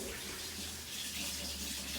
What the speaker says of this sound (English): I'm going to get a little hot water from the tap